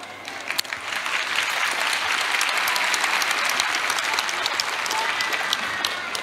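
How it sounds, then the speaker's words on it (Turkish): Dense audience applause fills a hall at a book-fair talk in Aksaray, rising quickly after a few scattered claps and holding steady and loud, with occasional sharper individual claps standing out. "Yerli yersiz alkış yapmayın"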